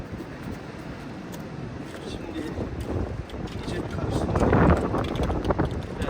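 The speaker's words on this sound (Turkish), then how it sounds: "Rüzgar esiyor." Steady broadband wind roaring across the microphone outdoors, swelling louder toward the end, with faint voices and rustling mixed in.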